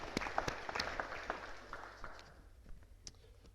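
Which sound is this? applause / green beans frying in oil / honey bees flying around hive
applause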